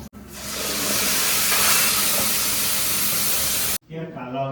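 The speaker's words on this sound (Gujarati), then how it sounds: "પનીર તળવા માંડી" Paneer frying in a pan gives a loud, steady hiss and sizzle that fills most of the clip without a break, then cuts off abruptly near the end as faint voices take over.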